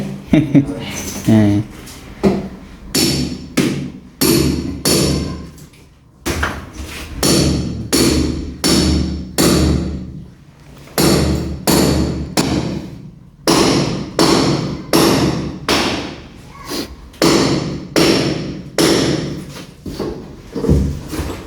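A large hammer strikes stone hard and repeatedly in steady, forceful blows, with short pauses between runs of strikes.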